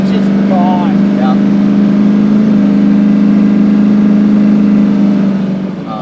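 A 1972 Dodge Challenger with a 426 HEMI engine runs with a loud, steady, throaty drone that holds even throughout, with a faint voice briefly in the background early on.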